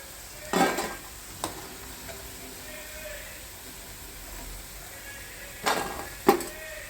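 Banana slices fry in oil for a Kerala-style banana mezhukkupuratti. A soft, continuous sizzle runs underneath, broken by a few sharp clinks and scrapes of a utensil.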